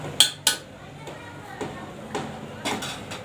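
A cooking pot of chicken bhaji is lifted off a gas stove, with two sharp metallic clanks close by followed by softer scraping and knocking of cookware.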